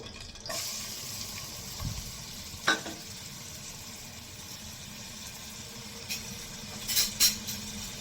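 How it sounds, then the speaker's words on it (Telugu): Chopped onions drop into hot oil for a fish curry and fry with a steady, moderate sizzle, punctuated by a few sharp spatula scrapes and clinks, one cluster close to the end. "ఆయిల్ కొంచెం వేడయ్యాక ముందుగా కట్ చేసి పెట్టుకున్న ఉల్లిపాయలు వేస్తున్నానండి"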